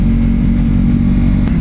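Deep, steady motorcycle exhaust rumble, loud and close, holding an even throaty drone throughout with no talking.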